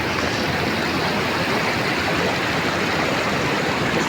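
Fast-flowing water of the Arun River, where it is spanned by a bridge, gives a constant dense rush, near and loud throughout, with no talking.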